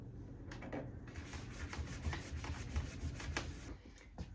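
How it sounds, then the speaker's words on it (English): Steady close scrubbing of a vintage wooden hutch to clear putty residue, a continuous rough rubbing with repeated strokes running the whole stretch, loud and alone. "He's wondering what all this scrubbing is about."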